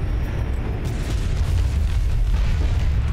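A deep, rumbling EMP blast from the real-time strategy game Homeworld: Deserts of Kharak rolls on loud and sustained, a heavy low boom with a continuous roar filling the whole moment, no speech over it.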